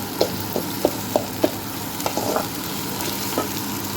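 Chopped tomato frying in a pan for carrot pachadi, a steady sizzle punctuated by a series of sharp, regular spatula scrapes and taps as it is stirred.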